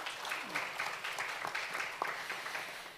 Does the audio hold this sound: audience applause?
yes